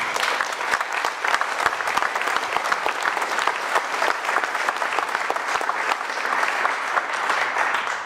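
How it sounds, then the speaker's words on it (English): An audience applauds a team at a Bitcoin Q&A event, with dense, continuous clapping that holds steady for several seconds and carries a faint murmur of voices underneath. "So, round of applause for that team."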